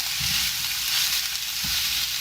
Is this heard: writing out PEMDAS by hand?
no